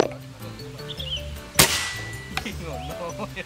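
A single loud, sharp shot from a Bocap Black Ant Tactical folding PCP air rifle with a metallic clang from the target, over steady tonal background sound; a fainter knock follows.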